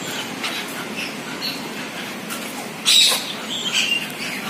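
Birds call at a zoo aviary in Thrissur, including chukar partridges, with a sharper cluster of chirps about three seconds in over a steady murmur of background noise.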